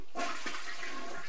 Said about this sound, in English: No, I flushed my toilet.